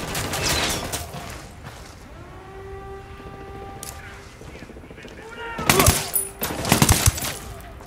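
Gunfire in the video game Ghost Recon Wildlands, rapid bursts of shots with loud clusters near the end, mixed with game sounds and voices talking over it.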